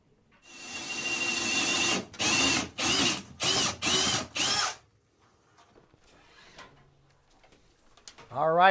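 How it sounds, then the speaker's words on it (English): A power drill bores through a wooden basement floor joist in bursts: a long whine, then four short pulses with brief gaps, loud and close, followed by quiet handling sounds and a short voice at the end. "Drilling through the joist, pulling it through"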